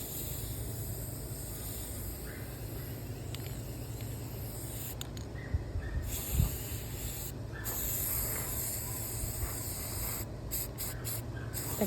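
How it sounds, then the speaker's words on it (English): Spray paint hisses steadily from a can onto a Dollar Tree bird bath, a soft continuous close hiss with a few brief pauses between passes. "I think I'm gonna spray one coat"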